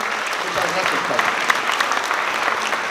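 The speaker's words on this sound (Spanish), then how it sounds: "Un fuerte aplauso para el compañero." Audience applause for a speaker at a Spanish-language public-debt forum, a dense, steady clatter of many hands clapping for three seconds, fairly loud and close, with murmured voices mixed in.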